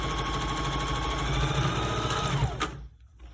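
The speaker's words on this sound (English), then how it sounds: "Put your presser foot down, stitch a little, back stitch, close it" Sewing machine stitching a small fabric handwarmer, a steady close mechanical whir with rapid needle chatter that stops abruptly near the end, no talk.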